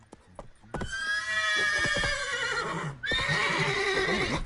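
Roach, Geralt's horse in The Witcher 3, gives a loud, drawn-out whinny over clip-clopping hooves, then a second neigh breaks out after a short pause.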